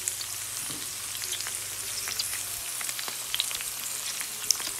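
Mutton chops frying in a pan over low heat give a steady, close sizzle and crackle throughout, with no voices.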